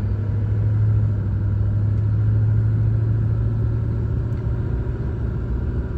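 A 2002 Chevy Silverado 2500HD with the LB7 Duramax diesel and about 200k miles, idling as a loud, steady, close diesel rumble with a low drone that wavers slightly as the engine surges, with no voices.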